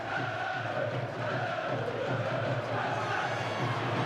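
A 10,000-strong football crowd fills a stadium at a Chesterfield vs Preston North End play-off semi-final, a dense, continuous roar of chanting and noise with a commentator's voice faintly in the mix.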